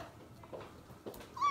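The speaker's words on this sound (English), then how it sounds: "He wants to see my kitty!" A pet cat meows softly a couple of times, fairly quiet and close, ending with a brief higher-pitched cry.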